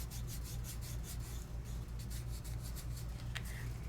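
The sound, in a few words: finger rubbing adhesive on a stencil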